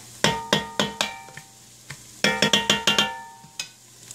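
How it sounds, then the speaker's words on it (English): Cabbage is tossed with onions and garlic in a pan, a series of sharp metallic clacks and clinks of utensil on cookware in quick irregular clusters, loud and close, with no talking. "toss it around really good to get it mixed in with the onions and garlic"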